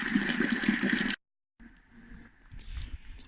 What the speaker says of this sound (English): Filling up with hot water to reach the correct volume, so we reach our intended ABV.